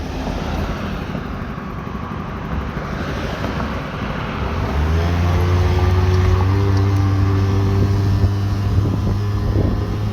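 Yamaha Jog SA16 two-stroke scooter engine revs up and holds a steady, rising drone, loud and close, after a quieter idle with wind noise in the first half.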